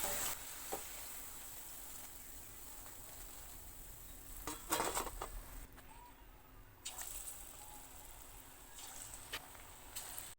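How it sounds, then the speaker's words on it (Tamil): Paneer pakoda fries in oil over a low flame with a soft, continuous sizzle, broken by a few faint clinks and stirring noises. "இப்படியே எல்லா பக்கோடாயும் பொரிச்சு எடுத்துக்கலாம்."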